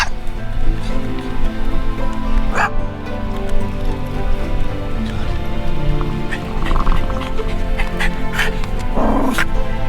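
Several dogs bark and yip repeatedly, loud and close, with whimpers mixed in and a voice speaking now and then.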